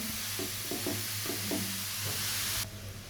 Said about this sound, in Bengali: আমি একটু নেড়ে চেড়ে কিছুক্ষণ ভেজে নেব।